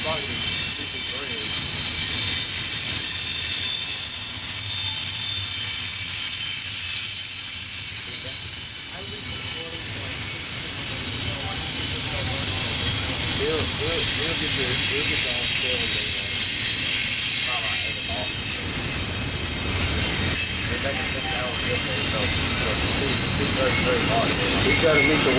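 KCS 4144 locomotive leading Norfolk Southern freight train 24E through Irondale, Alabama, a loud continuous rumble and roar of engine and rolling cars that holds steady throughout, with people talking nearby.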